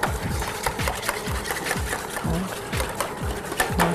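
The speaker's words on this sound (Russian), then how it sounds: "Белок надо взбивать." Egg whites are whisked by hand in a bowl, a steady fast scraping rhythm of repeated strokes running throughout, with a voice speaking briefly underneath.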